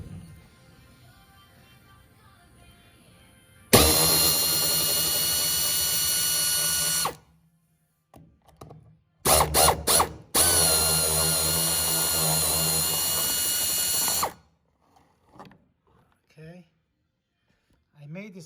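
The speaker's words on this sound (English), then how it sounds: "now I'm going to take the 8mm bolts out of the fuel neck" Power tool backing 8mm bolts out of the fuel filler neck on a Ford F-150 SuperCrew during bed removal, heard as two loud sustained mechanical whirring runs, a few brief bursts between them, and quiet pauses.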